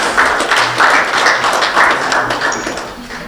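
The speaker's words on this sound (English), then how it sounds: "Please, can we invite him with a round of applause?" A crowd applauds a panelist being welcomed at a policy conference on post-Covid economic resilience; steady, dense clapping fills the whole stretch at a fairly loud level.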